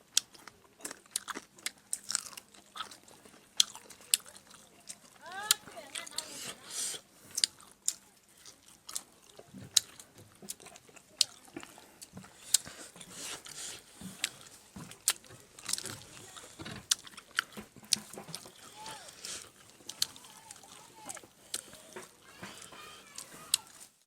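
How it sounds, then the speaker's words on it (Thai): Grilled crocodile meat brushed with honey being chewed close to the mic, with a long run of irregular sharp crunches and wet mastication sounds, quiet between bites. "ต้องขอโทษขออภัยทุกคนเพราะจะมีเสียงกลืนเสียงย่ำค่อนข้างแห้งเลย"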